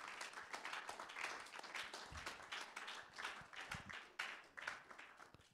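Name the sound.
church congregation applauding the Lord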